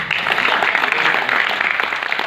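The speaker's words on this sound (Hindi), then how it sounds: "अच्छी बात पर अच्छी ताली बजनी चाहिए ताकि मंद अच्छी बात कह सके।" Audience applause at a Hindi satirical comedy-poetry performance by Surendra Sharma: a dense, steady wash of clapping from a crowd, fairly loud and unbroken throughout.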